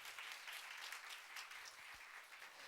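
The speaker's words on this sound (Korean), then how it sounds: "박수 한번 쳐주세요" A congregation in a church service applauds to welcome a new pianist, a faint but even, continuous wash of many hands clapping with no talk over it.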